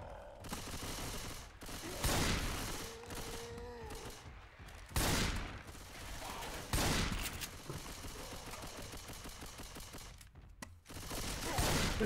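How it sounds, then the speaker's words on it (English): Machine gun fire in the video game Left 4 Dead 2: loud rapid bursts of automatic shooting repeat in several clusters with short pauses between them, dense and close. "Going with the machine gun."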